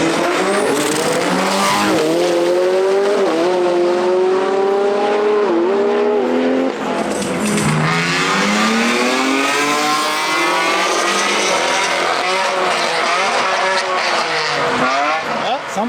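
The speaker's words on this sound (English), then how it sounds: "The next road race was the McLaren versus an E90 M3, but not an ordinary 90 M3." A McLaren and a 2JZ-swapped BMW E90 M3 drag race, with loud, close engine revs rising and falling through gear changes, tire squeal and a sustained high-power roar throughout.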